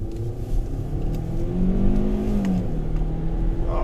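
Kia Optima SX Turbo engine pulling hard under acceleration, a steady droning rev that climbs in pitch and then drops as the automatic transmission shifts up around 6,000 rpm, heard from inside the cabin with no talking.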